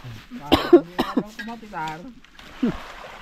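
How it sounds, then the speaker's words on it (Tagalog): A cough from a man at a casual island meal, a short harsh burst followed by a couple of throat-clearing sounds, close and fairly loud amid nearby conversation. "Ubo lang yun eh."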